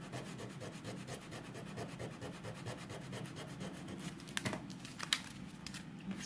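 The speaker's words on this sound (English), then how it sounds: "Now I'm just going to rub out my little boo-boos here on the side." An eraser rubs steadily back and forth across a handmade stamped card, a soft repeated scrubbing close by, heard alone.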